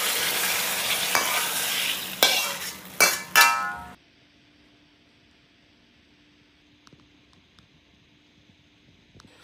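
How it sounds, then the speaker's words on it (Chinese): Mushrooms cooking in a wok: a loud stretch of sizzling, scraping and metallic clatters from the pan for about four seconds, then near silence with only a faint low hiss and a few small taps. "蘑菇也在锅里烧一下才能熟的啊"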